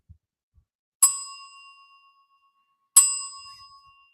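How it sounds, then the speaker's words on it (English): A studio bell on a sports radio show struck twice, two bright ringing dings about two seconds apart, each with a sharp onset and a long shimmering decay, alone in quiet. "That means I get to ring the brotherhood bell twice."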